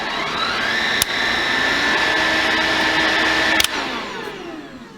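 A Bosch BBH3251GB cordless vacuum cleaner whirs steadily up close, with a click as it switches power setting and a whine that holds for a few seconds before a second click and a winding-down tail.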